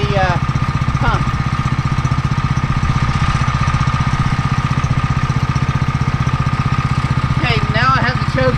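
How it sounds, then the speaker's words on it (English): A new Simpson 3000 psi power washer engine runs steadily to warm up with the choke off, a loud close mechanical drone with rapid even firing pulses, brief chirpy squeaks near the start and end. "We're just going to let it set and run for a minute because this is a new engine"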